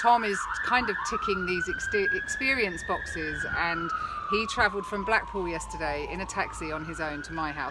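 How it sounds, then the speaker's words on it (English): A wailing emergency siren rises and falls in the background while a person talks steadily over it. "excuse the sirens"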